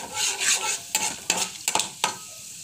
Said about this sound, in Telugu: నూనె కాగిపోయింది తాలింపులు వేసేయండి